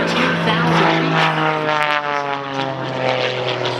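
Loud, steady propeller engine drone from an aerobatic airplane flying at an airshow while trailing a white oil-based smoke system, the tone holding strong and continuous throughout.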